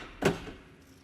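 A Mercedes-Benz G-Class door lock fires with a single sharp mechanical clack, followed by a brief fading rattle, heard alone at close range.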